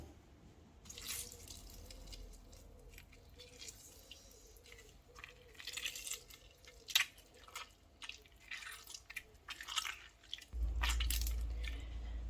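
Fresh lemons squeezed by hand for juice for an elderflower and lemon sorbet, giving soft wet squishes and drips, fairly quiet and close, with a louder low rumble near the end.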